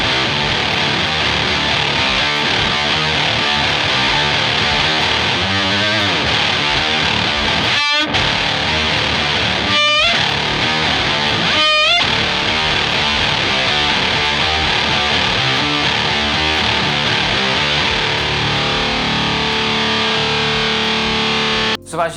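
Electric guitar riffing through a Whammy pitch pedal split into a Big Muff and a prime distortion, a dense, loud, fuzzy wall with fast repeated notes and a few sharp pitch-sweep dives.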